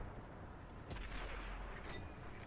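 A tank's main gun fires in World of Tanks, one sharp boom followed by a rumbling tail and a faint echo of another report, heard at a distance over a steady battlefield hum.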